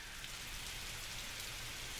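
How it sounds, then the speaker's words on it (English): Heavy rain pours steadily during a storm, a dense, even hiss with no breaks and no voices. "the rains poured down on earth until all the ground was under water"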